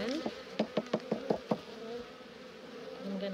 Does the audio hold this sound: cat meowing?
no